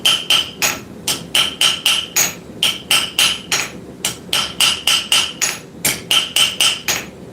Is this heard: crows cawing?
no